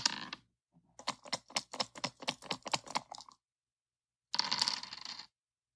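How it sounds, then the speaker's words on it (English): Dice rattling and tumbling in a quick run of clicks, short bursts near the mic, stopping and then resuming in one final clattering roll. "Hopefully the dice sound will come through."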